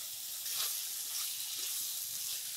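Sama rice roasts with vegetables in a hot pan, giving a steady, soft, close sizzling hiss with faint stirring, and no talk.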